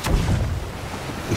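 A ship's cannon fires in the pirate game Sea of Thieves, a single heavy boom at the start followed by a low rumbling tail that fades over about a second.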